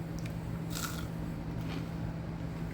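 Someone bites into crunchy-crusted cornbread, giving a few brief crisp crunches close to the microphone over a low steady background hum, with no talking.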